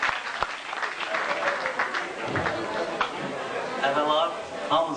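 At a 2001 Novruz Bayram celebration, the audience breaks into lively applause welcoming parody performer Rasim, dense clapping with crowd chatter and voices mixed throughout.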